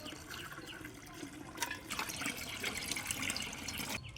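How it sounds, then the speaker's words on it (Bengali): Sliced potatoes are washed in a basin of water, with constant close sloshing and splashing that swells and stirs throughout and carries no talk. "আলুগুলো খুব ভালো করে ধুতে হবে। যতক্ষণ ঘোলা জল বেরোবে ততক্ষণ ধুয়ে নেব।"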